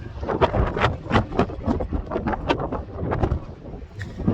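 Strong wind outdoors in Texas roars against the microphone in loud, choppy gusts, a continuous low rumble with sharper buffeting bursts.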